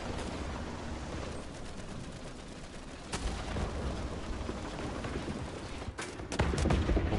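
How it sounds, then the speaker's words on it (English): Tank cannon fire in War Thunder on PS4, French and Swedish tanks: heavy booms and rumbling battlefield noise, with sharper blasts hitting midway and a cluster of close, loud shots near the end. "I'm already getting shot at"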